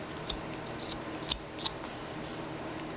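Scissors snip a paper cone clown craft into a round shape, three faint, brief cuts spaced apart over low background noise.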